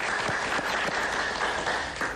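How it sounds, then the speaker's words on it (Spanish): Studio audience applauds Rosa María Payá, daughter of Cuban dissident Oswaldo Payá, as she arrives for an interview: a full, sustained burst of clapping from many hands, loud and unbroken, with no speech over it. "Un aplauso para Rosa María, por favor"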